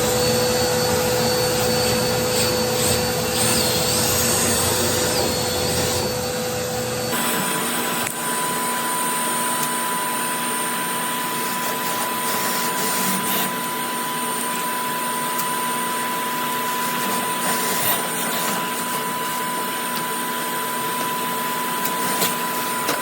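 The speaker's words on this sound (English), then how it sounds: "So we're going to turn on our vacuum and we're going to go." Vacuum cleaner roaring continuously while cleaning out a dryer vent, a loud steady drone that shifts in tone after several seconds as the hose works through the duct, with scraping rubs along the way.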